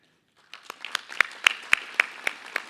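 A small audience at an annual business meeting bursts into applause after a board slate is affirmed, starting abruptly and settling into a sparse, rhythmic run of individual claps.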